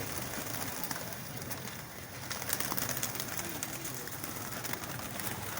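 Soft, repeated cooing of pigeons, including a jeera pigeon, blends into a rustling, noisy background, with a faint voice nearby.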